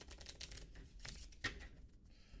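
A deck of playing cards shuffled at a live card trick, a quick rippling flurry of riffling card edges ending in a sharper snap, close and quiet with no talk.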